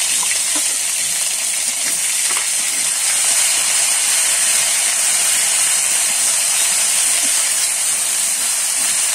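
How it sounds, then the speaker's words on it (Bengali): A spoonful of ginger paste fries in hot oil in a wok, giving a loud, continuous close-up hiss of steam and sizzle that holds steady throughout. "এখানে আমার আদা বাটা আছে 1 চামচ,"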